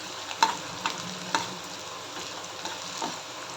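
Onion frying in a pan for masala paneer curry, a soft, even sizzle with a few sharp stirring clicks near the start.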